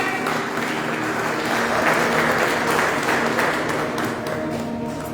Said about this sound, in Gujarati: એ માટે જોરદાર તાળી થઈ જાય.